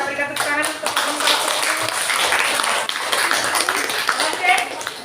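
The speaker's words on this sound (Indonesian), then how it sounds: "kita berikan tepuk tangan untuk kelompok" A classroom audience claps for a student group after its presentation, a sustained burst of applause with voices talking over it.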